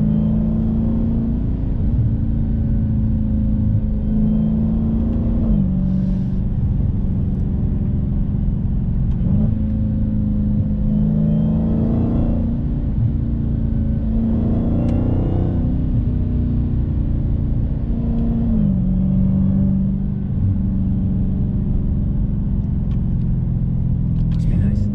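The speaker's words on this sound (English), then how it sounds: "That's the Dodge Challenger SRT Hellcat." A 2018 Dodge Challenger SRT Hellcat with a supercharged engine driving, a loud steady low rumble that swells and eases with throttle, heard from inside the car with someone talking over it.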